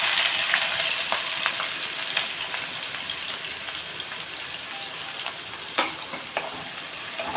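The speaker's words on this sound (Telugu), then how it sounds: "కొంచెంసేపు ఇవి ఇలా ఫ్రై చేసుకున్నాను." Onions and green chillies frying in hot oil for a prawn and brinjal curry, a steady broadband sizzle throughout with occasional crackles and pops, close and alone with no talk.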